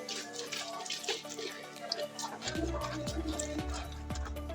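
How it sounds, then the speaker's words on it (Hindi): Tap water is poured into a container of car wash shampoo and liquid cleaner, making a steady trickling splash that grows fuller and more resonant as it runs. "इसके अंदर थोड़ा सा डालो, थोड़ा सा पानी,"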